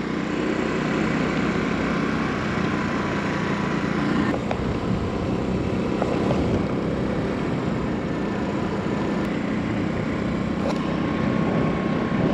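A Honda Navi small motorbike is ridden with a steady, unbroken engine drone and wind rush, loud and close throughout.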